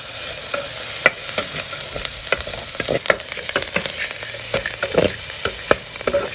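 Insects, stink bugs gathered from water spinach, dry-roasting in a pan, stirred with a utensil that scrapes and clatters in sharp, irregular strokes over a soft, steady sizzle, close and fairly loud, with no one speaking.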